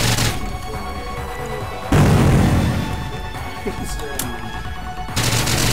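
Burst of retro pixelated video game gunfire, a heavy boom followed by rattling shots and crackle, fairly loud and layered over music and a voice talking throughout.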